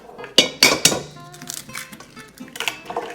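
Organic eggs for an egg wash being cracked and beaten in a bowl: three sharp, close clinks against the bowl, then lighter, scattered tapping and scraping.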